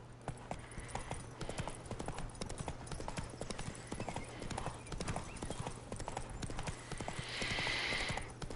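A horse gallops in The Witcher video game, its rapid, steady hoofbeats thudding without pause, with a brief airy whoosh near the end.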